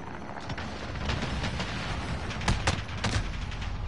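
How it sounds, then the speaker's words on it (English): Helicopter chopper gun fire in the video game Call of Duty: a dense, continuous barrage of rapid gunfire and explosive booms, loud and steady with sharper bursts near the end. "they got a chopper gun around."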